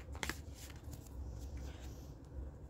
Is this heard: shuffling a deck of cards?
yes